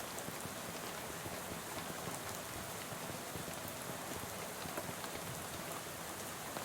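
Steady, even rainfall in the video game Shadows Over Loathing, a soft continuous hiss of drops on surfaces with no talk over it.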